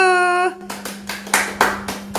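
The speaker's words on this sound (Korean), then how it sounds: "박수!" Several sharp hand claps ring out in an irregular burst, close and fairly loud, after a short sung or hummed tone, with a low steady hum underneath in an Airbnb rental kitchen.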